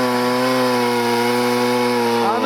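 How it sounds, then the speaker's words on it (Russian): A chainsaw runs at a steady high idle during break-in, a continuous buzzing whine that holds level and close throughout, with a slight pitch wobble near the end and no talking. "Это, слышишь, обкатка пилы."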